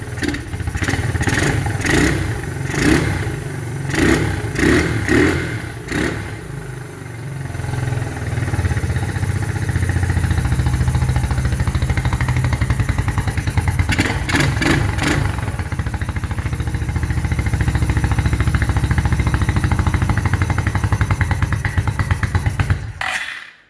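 A quad's engine, converted to a buggy and with no air box connected, revs hard in repeated bursts, then holds a loud, steady high roar before cutting off abruptly at the end.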